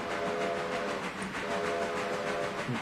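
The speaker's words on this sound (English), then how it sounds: "I hear steam engines." Steam engine number 14 on a railroad, its whistle sounding in two sustained tones over a continuous chuffing rumble, heard at a moderate distance.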